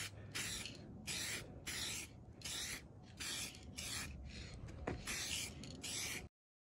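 A rattle can lays a light coat of spray paint on a car hood in repeated hissing bursts of about half a second each, separated by short gaps, close and fairly quiet.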